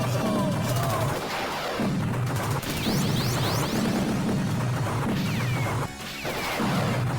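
Incendiary bomb blasts in an arcade shooter video game, heard as loud, dense crashing explosions with bursts of gunfire and whooshes that carry on without pause amid busy game music.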